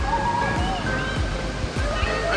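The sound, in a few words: water pouring down like a waterfall at a waterpark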